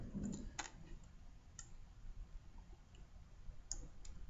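A computer mouse clicks on links in a few faint, sparse, isolated clicks spread over a quiet room background.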